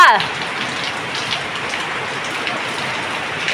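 Rain falls steadily nearby in Goa, an even hiss of drops on a hard surface, opening with a brief whistling sound.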